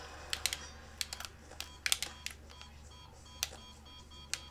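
Game controller buttons clack loudly during a Tony Hawk's Pro Skater 2 session, with irregular bursts of sharp clicks and taps scattered through the clip, some in quick pairs, with no talking.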